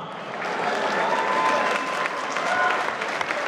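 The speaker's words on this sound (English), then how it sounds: "Ladies and gentlemen, round of applause for both fighters." Loud crowd applause and cheering for both fighters after an MMA bout, filling the venue steadily with some voices mixed in.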